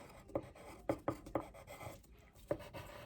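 Pen scratching across paper in a handful of short strokes, quiet and close, written out as a single word with brief pauses between strokes.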